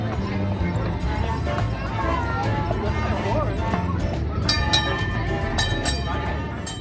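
The Disneyland Railroad train rolls along with steady rumbling and rhythmic clacking of wheels on track, and faint squeaks and metallic rattles rise toward the end, with people chatting underneath.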